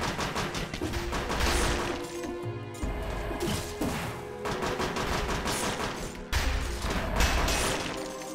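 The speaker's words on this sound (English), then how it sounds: "Maybe it's just the grenade we're tossing." Grenades tossed in the action game Dead Cells go off as a string of loud, crunchy explosions, with several heavy bursts separated by brief lulls amid constant clattering combat effects.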